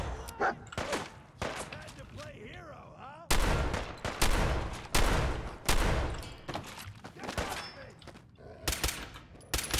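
Heavy rifle gunfire in the video game Fallout 4, with loud, repeated single and clustered shots that boom sharply against a quieter stretch of softer game sounds, while someone talks over parts of it.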